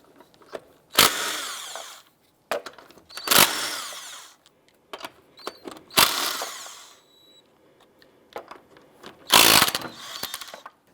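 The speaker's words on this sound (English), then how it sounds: "Using a 19mm socket, let's go ahead and remove our lug nuts." An impact wrench fitted with a 19mm socket spins lug nuts off a 2001-2005 Honda Civic wheel in four or five loud, sharp bursts of about a second each. Quieter clanks and handling sounds fall in between.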